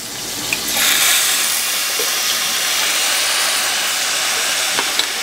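Water is poured onto sautéed turkey chunks on a Weber Q 2400 electric grill, giving a steady, close hiss of steam. The sizzle starts sharply and holds at a fairly even level throughout, with no one speaking.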